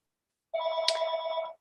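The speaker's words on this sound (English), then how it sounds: "my phone is ringing in the background" A telephone rings once in the background during a legislative work session, a single trilling burst of about a second, moderately faint, with no voices.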